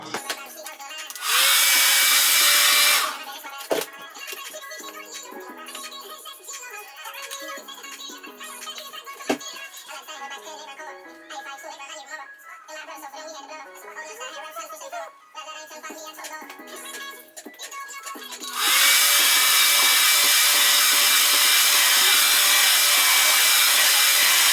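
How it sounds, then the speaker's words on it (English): Hair dryer blowing hair, a loud steady roar at the start and again from the middle to the end, with quieter background music and rattling in between. "now I'm about to blow dry"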